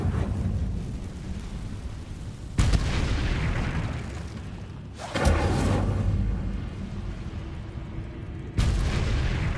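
An Incendio fire spell is cast in Hogwarts Legacy, each cast a sudden loud roaring whoosh of flame that starts sharply and then sustains as broad rumbling noise, repeated three times over a continuous fiery roar.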